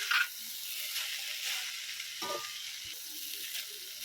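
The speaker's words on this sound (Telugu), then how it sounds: "రైస్ వేసుకున్నాకైతే తిప్పుకోవాలి ఫ్రెండ్స్. పైకి కిందకి తిప్పుకోవాలి ఫ్రెండ్స్." Cooked rice being stirred up and down in a hot pan for egg fried rice, a soft continuous sizzle with a few scraping turns of the spatula, fairly quiet and with no voices.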